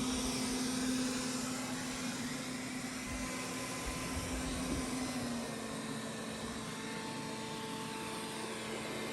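A ZOOZEE Z70 robot vacuum cleaning indoors and moving under furniture, heard as a steady, fairly faint motor whir and airy hum with a sustained low tone, continuous and without talk.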